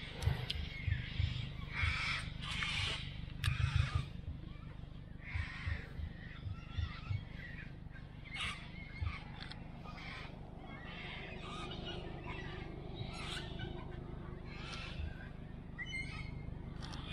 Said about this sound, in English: Wow, they're really loud birds.